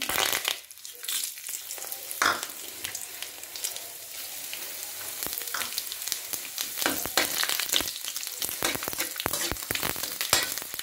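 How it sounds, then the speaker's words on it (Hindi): Whole spices sizzling in hot oil in a pan while cooking broccoli sabzi, a dense crackling spatter with sharp pops and stirring scrapes, close and continuous with no voices. "तेल हमारा अच्छे से गर्म हो गया है अब हम इसमें पहले खड़े मसाले डालेंगे"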